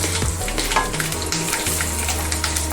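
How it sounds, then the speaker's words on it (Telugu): Green chillies go into a hot oil tempering for a carrot, coconut and chana dal curry, giving a loud, continuous sizzle with some stirring noise close by and no talking. "అలాగే పచ్చిమిరపకాయలు వేసుకున్నాం."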